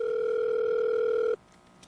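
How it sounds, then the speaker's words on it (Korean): A telephone line connecting a caller into a call-in broadcast, a loud steady dial-type tone that holds evenly and then cuts off abruptly, leaving a quiet line hiss, with no talking. "어떤 분이 전화 주셨는지 연결해 보도록 하겠습니다"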